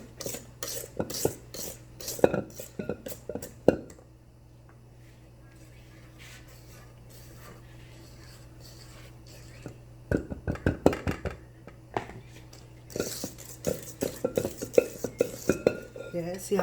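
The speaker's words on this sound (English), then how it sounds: "I'm going to get it whipped back up again." Guava duff mixture being whipped in a bowl: bursts of rapid scraping and clinking of a utensil against the bowl, separated by a quieter stretch with a steady low hum.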